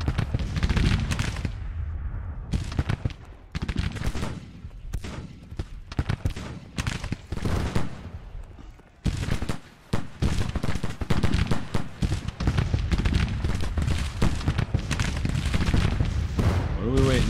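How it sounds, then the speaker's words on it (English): Long-range musket volleys from Civil War infantry lines in Grand Tactician: The Civil War, dense crackling gunfire with heavy booms running almost without break, briefly dropping away near the middle, while someone talks over it. "Now we gotta give these guys an order to fire at long range."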